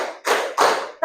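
A group of people, apparently children, clap in a counted rhythm exercise, giving two loud, close bursts of claps in quick succession and the start of a third, with no talk over them.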